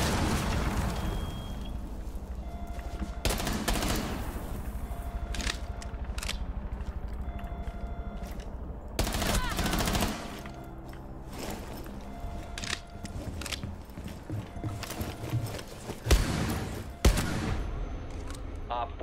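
Gunfire in a tactical shooter video game: sharp, loud shots and bursts spaced irregularly over steady game ambience, with some talking in between.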